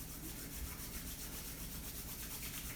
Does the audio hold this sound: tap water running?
no